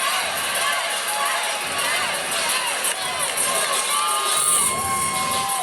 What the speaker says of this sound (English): the crowd's going crazy. It is so loud in here right now.